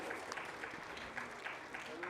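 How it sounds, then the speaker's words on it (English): Parents in the audience at a school annual day clap in a steady round of applause, moderately loud and continuous over the short stretch. "A big round of applause,"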